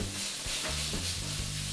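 Onions sizzle in a very hot pan with a continuous hissing crackle, with faint stirring or clinking underneath.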